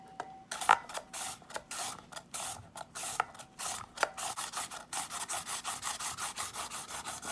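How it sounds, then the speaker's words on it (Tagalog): Green papaya and carrots for atchara are grated by hand, giving rapid, rhythmic rasping strokes that start sparse and become a steady scraping rhythm, close and fairly quiet, with no speech. "Kudkod lang hanggang sa matapos."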